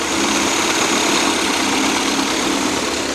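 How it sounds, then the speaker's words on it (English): A car engine idling steadily and roughly, with a faint repetitive knock from the offside of the engine running through the constant mechanical hum. "There is a knocking coming from the offside of the engine"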